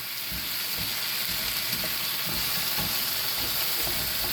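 Sliced potatoes and onions sizzle in a hot pan, a steady bright hiss with soft crackles and occasional stirring knocks, close and constant with no talking.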